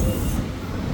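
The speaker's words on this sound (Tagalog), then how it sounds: "so nandito tayo sa train station nila" A train at a Malaysian station near Bukit Nanas, a loud low rumbling roar of rolling carriages close by that eases slightly after the first moment.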